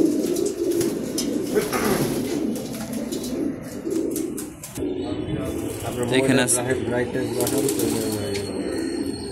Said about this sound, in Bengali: মাদি আর বাচ্চা কবুতর আছে।